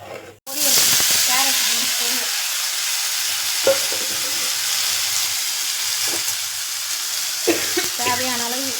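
Food sizzles steadily in a hot pan while a utensil stirs it, with a few short voiced sounds partly audible over the frying hiss.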